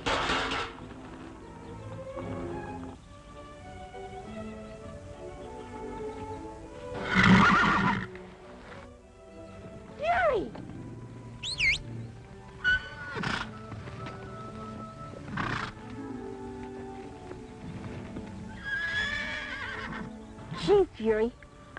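Horses neighing and whinnying during a fight involving a pinto stallion, several loud shrill calls spread across the scene, some with hoof clatter, under occasional voices and background score.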